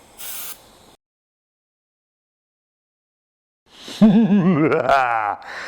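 A short hiss of spray paint lays a thin coat onto a foam helmet, followed by silence and then voice-like tonal sounds.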